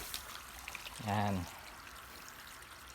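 Water from a garden hose pours into a container for growing azolla, a brief gush of about half a second in a quiet outdoor setting, with a person speaking a single word.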